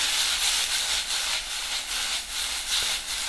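Green beans sautéing in olive oil in a pan make a loud, close, continuous hissing sizzle. It swells and fades in a rhythmic pattern as they are tossed quickly, with no voices.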